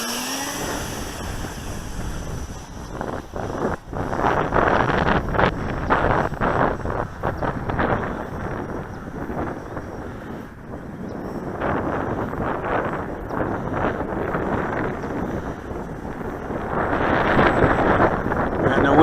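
Gusty wind buffets the microphone at a cold, roughly 35-degree model aircraft flying field where a Multiplex Pilatus PC-6 model is flown. The rumbling roar is loud and continuous, rising and falling in uneven surges for the whole stretch.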